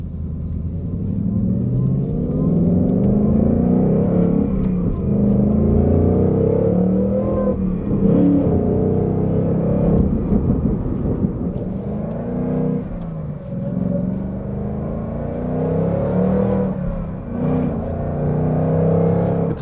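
A supercharged 2019 Ford Mustang Bullitt rumbles and revs with a deep exhaust note, the engine swelling and easing repeatedly in a steady, loud, close drone with no voices.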